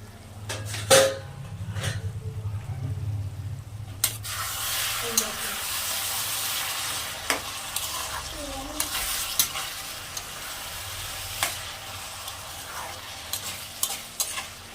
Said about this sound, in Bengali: বন্ধুরা, এবার আমি কপিটা নাড়বো।